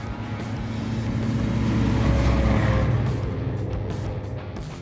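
A Tinger TF4 wheeled all-terrain vehicle's engine accelerates, its motor drone swelling to a peak midway and then easing slightly, heard from close by with no talking.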